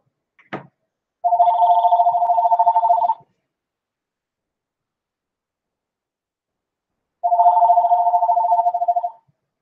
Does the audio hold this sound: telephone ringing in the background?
yes